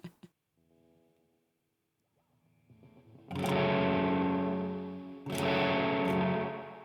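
An instrument plays through an echo and distortion effect that was left on by accident, starting as quiet sustained tones and then swelling into loud, smeared, reverberant chords that wash out repeatedly, with no voices heard.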